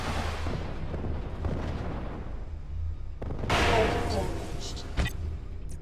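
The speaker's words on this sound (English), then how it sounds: "Missiles away." Missiles launch and explode in the video game MechWarrior Living Legends, heard as rumbling booms and a sharp blast under continuous radio-style voice chatter.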